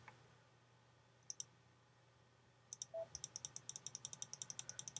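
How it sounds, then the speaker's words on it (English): Small buttons are clicked in quick, rapid runs, faint and close over a low steady hum, with a few isolated clicks before a longer burst. "I'm just clicking buttons."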